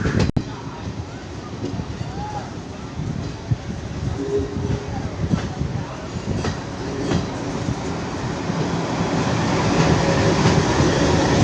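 A passenger train rolls through the rail yard at Ahmedabad Junction during heavy rain, a close and steady rumble with the clatter of wheels over track joints that slowly grows louder, and speech can be heard over it.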